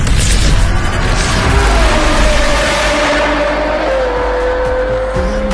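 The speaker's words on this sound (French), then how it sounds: "Il y a un mec qui passe avec un XM là." BMW XM SUV passing close by with a loud, sustained engine roar and a rising then falling tone as it goes past, heavy low rumble throughout.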